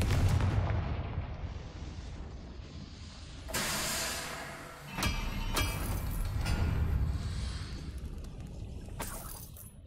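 A Confringo fire spell explodes in the video game Hogwarts Legacy, a roaring, crackling blast followed by several sharp bursts over a rumbling game backdrop.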